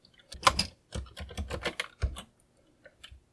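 Keys tapped on a Commodore VIC-20 keyboard, a quick cluster of clicky presses followed by a few slower, softer taps, close and clear with no voices.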